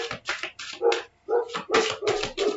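A dog barks repeatedly indoors, close and loud, in a quick run of sharp barks broken by one short pause.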